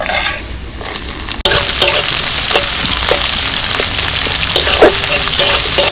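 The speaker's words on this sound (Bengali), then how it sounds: "পেঁয়াজ রসুন কাঁচা লঙ্কা ভালো করে ভেজে নিয়েছি" Chopped garlic, onion and green chili fry in hot oil with black cumin, a loud steady sizzle starting abruptly, with intermittent scraping clicks of a spatula stirring in the pan.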